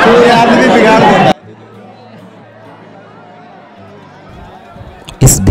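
A dense, loud crowd bustle at the Banke Bihari temple in Vrindavan fills the first second or so, then cuts away to a much quieter background with a low hum.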